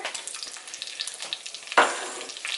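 Butter hits a hot pan on medium-high heat for Swedish meatballs, a close, steady sizzle with crackles and a sudden louder burst of hissing near the end.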